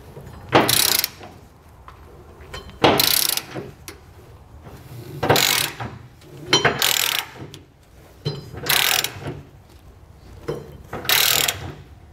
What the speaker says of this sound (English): So we'll go through and get this all torqued down properly.